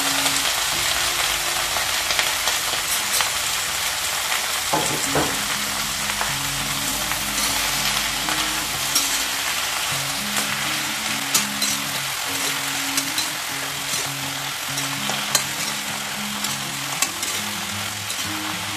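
Jackfruit pieces fry in hot oil and get stirred around a pan, giving a steady dense sizzle punctuated by scraping stirs and occasional clinks, close and continuous.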